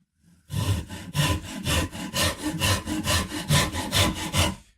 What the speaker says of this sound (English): now I'm doing the side that's facing you with this amazing tool, the Shinto saw rasp